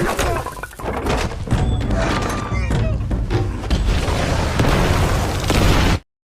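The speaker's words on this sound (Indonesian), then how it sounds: "para penjahat pun tewas seketika akibat ledakan besar" A big explosion in a martial arts action film that kills the villains, a loud booming blast followed by crashing, shattering debris and thuds that roll on for several seconds and then cut off, with a narrator speaking over it.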